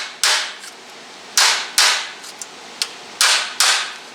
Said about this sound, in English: take our handy dandy little body hammer here, this guy, and get on a piece of metal like so